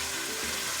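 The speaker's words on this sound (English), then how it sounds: "It should sizzle nicely like that." Pork sizzling in hot fat in a pot on the stove, a loud, continuous close frying hiss with no voices over it.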